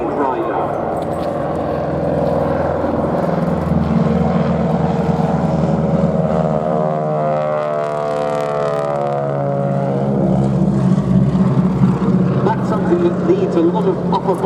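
Propeller aircraft flying a wing walker display at the Duxford airshow, its steady engine drone rising and falling in pitch as it passes, loud and continuous over the full span.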